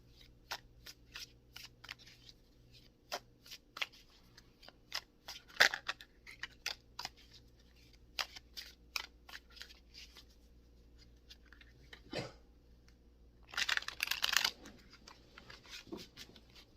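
Tarot cards being shuffled by hand, a quiet close series of crisp riffling flicks in irregular bursts, ending in a longer, denser riffle near the end.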